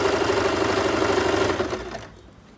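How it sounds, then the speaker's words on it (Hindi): A sewing machine runs in a fast, steady whir while stitching fabric over elastic for homemade palazzo pants. The motor is close and loud, then slows and stops near the end, with no talking. "अब हम इसकी स्टिच करेंगे।"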